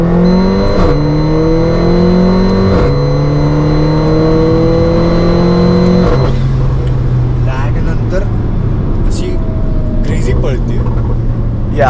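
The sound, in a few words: sports car exhaust revving with downshifts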